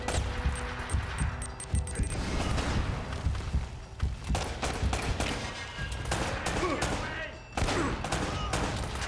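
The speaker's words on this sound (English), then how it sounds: "You're just wasting your ammo, bro. Just shooting blindly" Video game gunfire from Uncharted: Drake's Fortune: dense bursts of rapid shots and heavy thuds fill the whole stretch, loud and close, with brief gaps between volleys.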